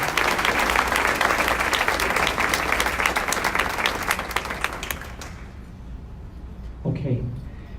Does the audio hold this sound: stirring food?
no